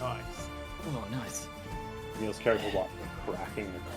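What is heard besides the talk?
None of the usual background noises is heard.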